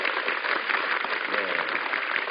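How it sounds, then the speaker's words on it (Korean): Audience applause at a Korean talk concert, a steady dense wash of clapping that holds evenly for a couple of seconds without a break. "박수 한번 주세요."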